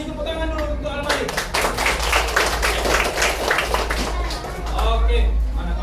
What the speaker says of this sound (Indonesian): Kasih tepuk tangan dulu untuk Al-Malik.